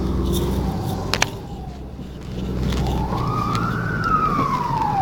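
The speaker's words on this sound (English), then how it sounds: "You can hear the fire trucks." Fire truck sirens wail over steady traffic rumble, first fainter, then a rising, sweeping wail coming closer and growing louder, with no talking.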